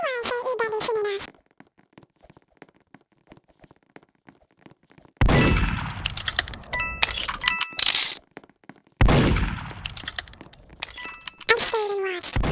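Gunfire in the Roblox game Murder Mystery 2 comes as sharp cracks and dings amid loud game effects and music, with a person talking in short bursts at the start and end.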